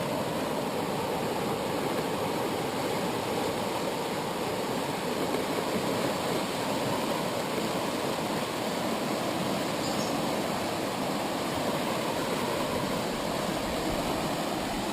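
Dan River flowing through woods at Hanging Rock State Park, a steady, even wash of moving water that holds at the same level throughout, close by and with no voices.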